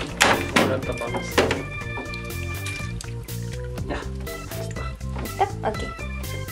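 A plastic lid is shut on a mini washing machine holding clothes, water and washing balls: several dull, close thunks with light sloshing, while voices talk around them.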